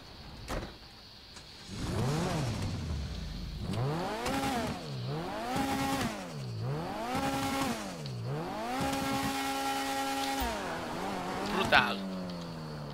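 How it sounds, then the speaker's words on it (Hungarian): A car engine in the video game GTA V revs up and down repeatedly in rising and falling sweeps, loud and close, then settles into a steady higher drone. "hallgassátok légy szíves meg az autó hangját"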